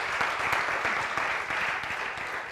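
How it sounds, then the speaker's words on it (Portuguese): A church congregation claps steadily together, a fairly close, continuous patter of many hands at moderate loudness without voices over it. "Brothers and sisters, you ought to be clapping and cheering for Jesus."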